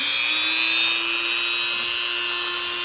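A steady electric drill motor whirring at low speed, running continuously and close by with a constant pitch.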